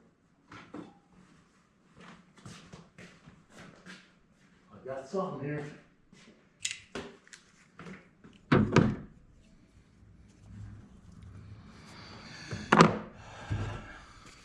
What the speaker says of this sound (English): Let me go dig through my drawer.